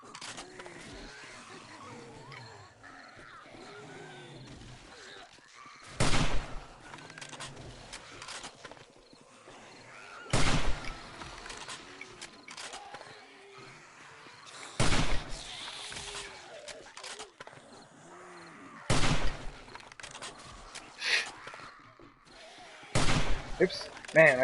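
Exploding crossbow bolts fired in 7 Days to Die, landing as five sharp, loud bursts spaced roughly four seconds apart over a quieter background of game noise and chatter.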